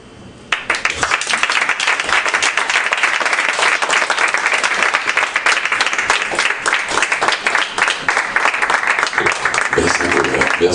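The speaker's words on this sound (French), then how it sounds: "On applaudit très fort, mesdames et messieurs." Audience applause at an evening poetry and performance event breaks out suddenly after a quiet start, then continues as a loud, dense, sustained burst of clapping to the end.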